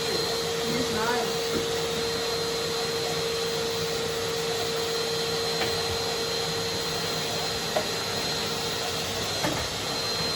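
A Metabo vacuum cleaner runs steadily throughout, a constant whine with a strong tonal hum, used alongside a Zubr wall chaser during home electrical work; a few faint clicks and knocks sit on top of the continuous drone.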